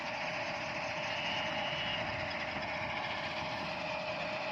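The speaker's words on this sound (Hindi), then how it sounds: "ये गाड़ी अब लोड हो रही है, अब डंपर होगा सिंगल वहाँ ऊपर।" A dumper truck's engine rumbles steadily at idle while the truck is loaded at a gravel mine, a constant, moderately loud drone with a faint underlying whine.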